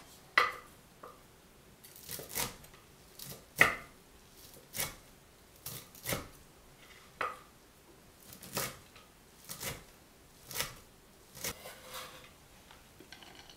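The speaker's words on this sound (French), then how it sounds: "Je coupe le tofu frit en tout petits cubes." Fried tofu chopped into tiny cubes with a knife on a cutting board: a quiet, close series of crisp, evenly spaced knife taps, about one every second, with faint soft squish between strokes.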